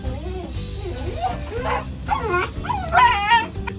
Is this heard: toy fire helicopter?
no